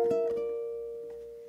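A ukulele played fingerstyle: a few plucked notes at the start, then one sustained note left ringing and slowly fading, alone and fairly quiet.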